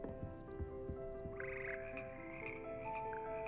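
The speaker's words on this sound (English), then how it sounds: "God damn frogs." Frogs in the game Hogwarts Legacy croak in quick repeated bursts, several voices overlapping against a steady low tonal background, moderately close.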